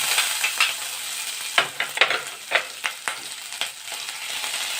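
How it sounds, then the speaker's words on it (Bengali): Chopped ginger and whole cumin seeds sizzle steadily in hot oil, with a bright crackling hiss broken by several sharp spattering bursts and scraping stirs, close up and with no voices. "এবার এটার মধ্যে আমি তেলের মধ্যে দিয়ে দিচ্ছি কুচি করে রাখা আদা"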